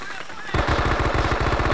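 Machine gun cover fire in the WWII shooter Men of Valor, a sudden rapid burst of evenly spaced loud shots continuing steadily after a brief lead-in of game noise.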